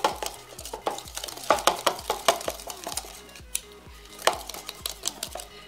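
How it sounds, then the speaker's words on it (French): A spoon stirs cake batter in a bowl, making a quick, steady run of close clinks and scrapes against the side of the bowl, with no talk. "Pour bien mélanger tout ce que vous voyez, tout ce qu'on mélange ici."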